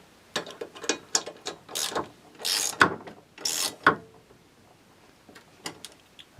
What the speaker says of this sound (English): get the socket. Should be just taut, tightened.